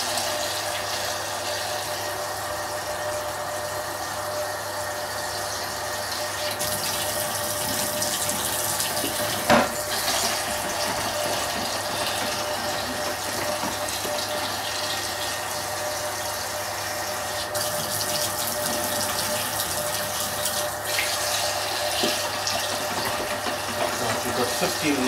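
Tap water runs steadily into a home brew fermenting vessel as it fills with about 15 litres, a continuous hissing rush lasting the whole time with no talking over it.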